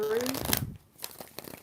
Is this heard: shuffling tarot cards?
yes